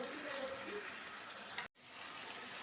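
Garlic fries in a pan with a soft, steady sizzle and crackle, close and quiet, cut off by a brief dropout before the frying hiss resumes.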